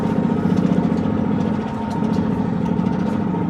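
A barn-find Italian micro van, parked for twenty years, runs with a steady, loud, low engine drone in gear, uneven and throbbing throughout with no break.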